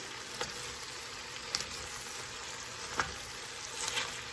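Cabbage and bacon sizzle and crackle steadily in a frying pan, with a few sharper scrapes of stirring standing out near and alone, no talking.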